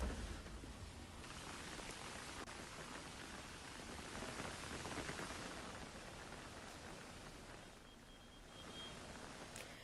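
Heavy monsoon rain pours down steadily in a broad, even hiss, faint and distant, holding constant with only a slight dip toward the end.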